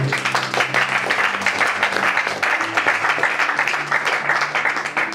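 Congregation applauding during a church sermon, a sustained dense wash of clapping hands with low voices or music humming beneath, steady and fairly loud throughout.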